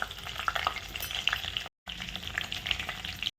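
Mustard seeds crackle and sizzle in hot oil in a home kitchen, a steady frying hiss with sharp little pops, close and fairly quiet, briefly cut off midway.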